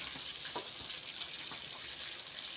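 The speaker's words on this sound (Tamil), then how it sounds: "அதுக்காக தான் நான் இந்த மாதிரி கொஞ்சம் எண்ணெய் வச்சுட்டு வறுக்கிறது" Fish fries in a little oil, giving a faint, even sizzle throughout, with a few soft crackles and light knocks in a quiet kitchen and no voices.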